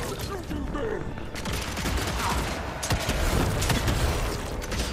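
Rapid gunfire bursts from shooting an enemy in the video game Evil West, loud and dense with mechanical clatter, mixed with game sound effects and some talk.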